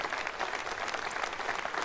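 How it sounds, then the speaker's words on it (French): A short burst of audience applause in a crowded room celebrating a successful spacecraft separation. Continuous, moderately faint clapping fills the brief moment. "Les applaudissements sont nominaux."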